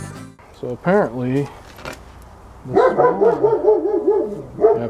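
Several dogs bark in quick bursts near a tractor being worked on, first a few sharp yaps, then a louder, sustained stretch of overlapping barking toward the end.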